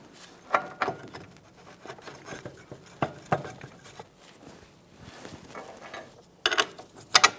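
Ratchet snugging up the front knuckle mounting bolts on a 2013-2020 Ford Fusion during a wheel bearing and hub job, giving scattered metallic clicks and clanks at close range with short bursts of quicker ratcheting, no talking.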